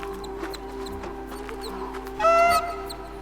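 Bird calls in the Myst III video game: a run of short chirps and squeaks over a low game hum, then a brief, louder, bright honking call near the end.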